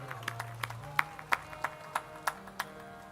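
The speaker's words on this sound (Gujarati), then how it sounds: "હું તો તમારા માટે તાળી પાડવાનું કહું છું" Scattered claps from an audience at a Shrimad Bhagavat Katha religious discourse, about ten sharp separate hits in an uneven rhythm, moderately close over a low steady hum with no speech.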